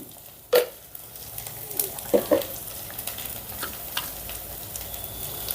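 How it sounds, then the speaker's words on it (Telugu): Ginger garlic paste fries in a pan with a soft, low sizzle, punctuated by a few sharp spoon taps and stirring scrapes. "అల్లం వెల్లుల్లి పేస్టు చక్కగా ఫ్రై అయిందండి"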